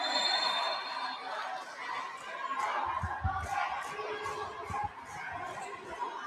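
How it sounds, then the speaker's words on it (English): Volleyball crowd at an FEU match cheers and shouts in a noisy arena, a moderately loud swell of voices and chatter with some thumps beneath, heard from a distance. "the FEU crowd is alive again"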